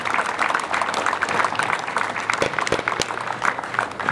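A crowd at a 14 July ceremony in Saint-André-des-Alpes applauds the village festival committee, dense scattered clapping that rises and falls over a few seconds with no voices on top.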